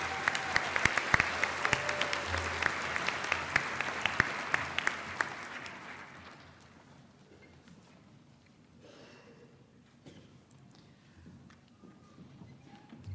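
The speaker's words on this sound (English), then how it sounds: "One last round of applause." A commencement crowd gives graduating honors students a final round of applause, dense clapping that gradually fades out over several seconds into quiet room tone.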